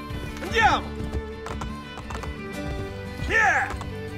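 Horses clip-clop along in Assassin's Creed Brotherhood, steady hoofbeats running under a horse's whinnies at the start and near the end, with game music and effects layered beneath.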